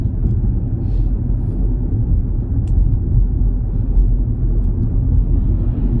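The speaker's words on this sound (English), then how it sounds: "now we're gonna do that same thing with the engine propulsion sounds off" A Ford Mustang Mach-E electric car climbs a hill with its artificial propulsion sounds switched off, giving a loud, steady low rumble of road and cabin noise with only a subtle motor whir and no voices.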